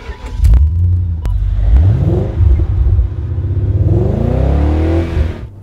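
An original BMW 8 Series car accelerates hard, its engine revving up through rising pitch sweeps and shifting gears, loud and close with a steady rumble throughout.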